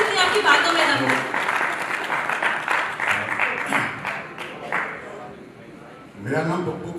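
Audience clapping at a national summit program in Delhi, a burst of applause in a hall with a speaker's voice running over it throughout, fading out before a short renewed swell near the end.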